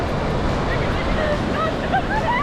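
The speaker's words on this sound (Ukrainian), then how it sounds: "Волни аж сюди воду добувають." Ocean surf washing ashore on a US beach: a steady, loud roar of breaking waves with heavy wind buffeting the microphone, no voices over it.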